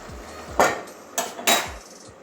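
A lid comes off a cooking pan of potato and kundri with poppy seed: several sharp metallic clanks and scrapes, close and distinct, spaced over about two seconds.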